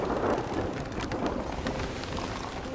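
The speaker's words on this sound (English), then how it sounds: "that storm is definitely moving away" Storm in the pirate game Sea of Thieves, with steady rain hissing on surfaces and low rolling thunder rumbling underneath, constant and moderately loud with no talk.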